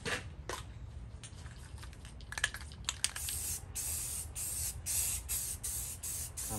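Primer sprayed from a can onto a 1950s Craftsman wall-mounted tool cabinet: quiet clicks and short hisses first, then a run of close, loud spray bursts in a steady rhythm.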